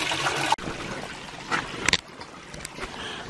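A natural creek at Elijah's Place in Cades Cove runs in a steady, close rushing trickle, with a brief thud and a few small clicks and splashes over the constant flow.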